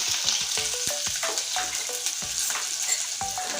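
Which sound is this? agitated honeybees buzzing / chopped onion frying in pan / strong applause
chopped onion frying in pan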